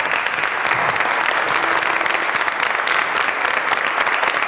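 A 1995 Turkish television show studio audience applauds in a thick, continuous roar of clapping that stays loud and even throughout.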